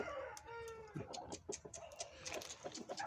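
Indian game breeding roosters and hens clucking at close range, a busy run of short calls and squawks overlapping, with no talk.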